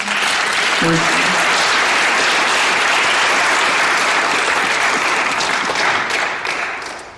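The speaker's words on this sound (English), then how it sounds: "Can we give them another round of applause?" Loud, dense audience applause for a panel at a World Affairs Council talk on USAID, steady and full for about seven seconds before tapering off at the end.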